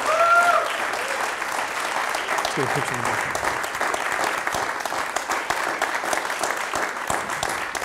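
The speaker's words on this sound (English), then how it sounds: "Round of applause," Sustained applause fills a U.S. Navy all hands call, steady and broad from start to finish, while people talk over it and a brief high whistle-like tone sounds near the beginning.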